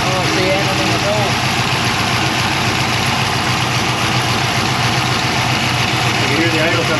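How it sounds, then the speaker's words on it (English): A turbocharged 363 small-block Ford V8 in a Notchback idles loudly and steadily just after its first start, a continuous deep rumble filling the whole stretch with faint voices underneath. "You can hear the idle coming down already."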